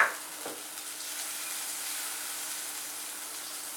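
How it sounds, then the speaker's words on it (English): Butter melting in a pan on the stove while making white sauce gives off a steady, soft sizzle and hiss, close and continuous after a brief clatter at the start, with no talking. "As I've added butter, let the butter melt."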